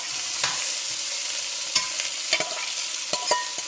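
Fish seasoned Jamaican outdoor style fries in a pan, a steady bright sizzle running throughout with a few sharper crackles and utensil scrapes near the end, close and moderately loud.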